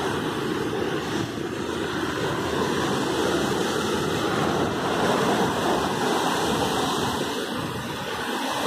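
Ocean waves wash over a rocky shoreline at Praia do Guaraú in Peruíbe, a continuous broad roar of surf with some wind buffeting the microphone and no voices.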